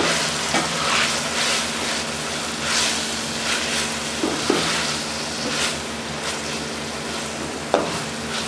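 Chopped tomatoes fry in a pan for aloo shimla mirch, a loud, steady sizzle with the occasional stir and spatula tap against the pan.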